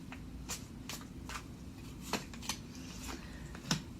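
Tarot cards are drawn and handled from a deck. Soft flicks, slides and light slaps come close up at irregular intervals, with a few sharper snaps near the end.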